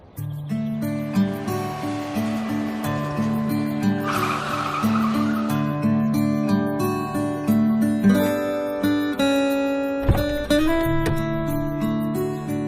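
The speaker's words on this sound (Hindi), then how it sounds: "उस गाड़ी में बैठा और ड्राइव करते हुए निकल गया" A borrowed car starts up and drives away on a sunny day, its engine and a brief tire squeal partly buried under steady background music.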